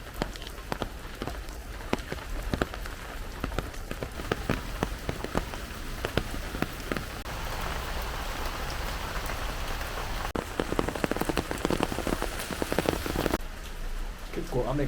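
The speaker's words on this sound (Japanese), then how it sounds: "結構雨が激しいので傘さしながら見物するの多分子供連れとかだと大変だと思います。" Heavy rain falls on a rainy-season day in Lisbon, a dense, continuous patter with close, sharp drips and splashes striking a nearby surface, steady for the whole stretch, with no one talking.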